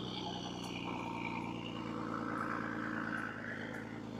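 A truck engine roars at full power, a loud, steady, close drone that swells slightly midway and holds without a break.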